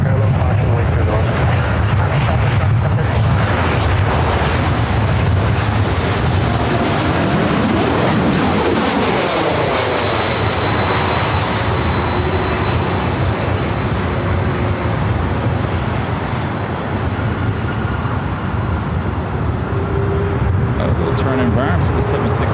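A jet airliner roars continuously during takeoff at LAX airport, a broad, loud rumble that swells and shifts pitch, with faint speech underneath.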